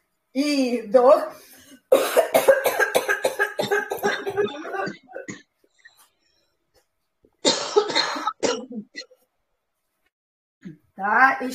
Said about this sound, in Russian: Откашляться хочется, давайте.